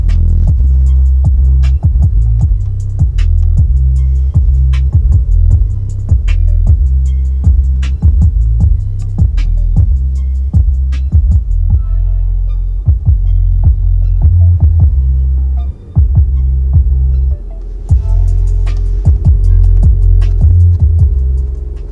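Music played through the six-speaker sound system of a 2022 Lexus UX 250h, with heavy throbbing bass, steady beat and thumping low end heard inside the cabin, loud and continuous with no talking.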